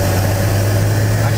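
Turbocharged Nissan Patrol TD42 diesel engine running at a steady idle, a loud, even low rumble with constant drone and no change in pace, heard close and alone.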